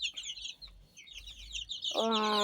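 Native country chickens and chicks about one month and 24 days old at an integrated farm give high, rapid peeping chirps, ending in a louder, drawn-out cluck call close by.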